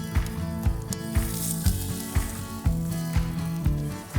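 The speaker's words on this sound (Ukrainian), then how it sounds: "Ось я додаю помідори грилюватися." Oiled tomatoes sizzle on a grill with a steady, crackling fry, punctuated by sharp clicks and taps every half second or so, close and moderately loud.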